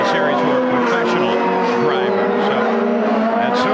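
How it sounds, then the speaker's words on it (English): A Toyota pace car, reportedly a rare Supra, drives on a race track with a loud, sustained engine note that holds steady throughout. "There's our Toyota pace car."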